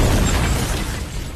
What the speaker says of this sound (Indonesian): ledakan pun terjadi